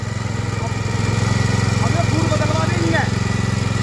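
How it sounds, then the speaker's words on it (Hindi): A Honda 840 power tiller engine runs steadily while ploughing, a loud, close, continuous droning chug that holds a constant pitch, with faint voices over it. "जुताई कर रहे हैं इससे, ये होंडा का है 840"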